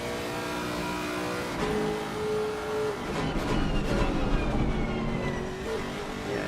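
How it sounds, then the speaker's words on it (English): Race car engine at the Nurburgring in a sim racing game, a loud close drone that lifts around gear changes and wavers in pitch as the car brakes and accelerates through a sequence of corners. "Nice engine sound there."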